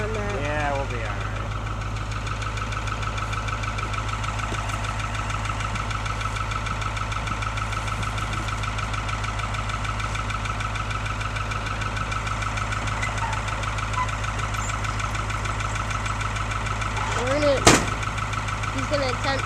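A 1984 Ford truck with a 3208 diesel engine that hasn't run in three years, idling with a steady, low, knocking rumble for the whole stretch, while people talk nearby.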